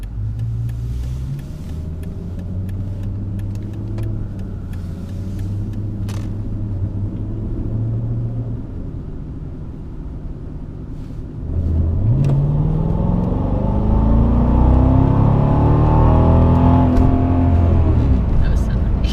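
Used Mercedes-AMG car making a hard 0 to 60 run: a low idle rumble under faint talk, then a loud surge as the engine revs climb through successive gears, close up.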